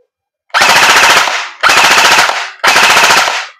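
An EC637 airsoft electric rifle fires on full auto in three loud, close bursts, each about a second of rapid buzzing shots with short gaps of silence between them.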